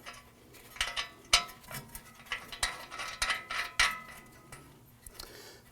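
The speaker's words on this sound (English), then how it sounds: "I'm going to go ahead and get the lower nut installed." A ratchet tightens the lower ball joint nut on a 2015-2020 Ford F-150, giving irregular metallic clicks and ratcheting bursts at close range, fairly quiet with brief pauses between strokes.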